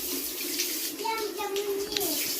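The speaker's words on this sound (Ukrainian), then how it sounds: "А ну, це вода, а ну змиє." Water runs from a tap to rinse a knife while butchering pigs, a steady splashing flow with a few brief tonal squeaks, close and fairly loud.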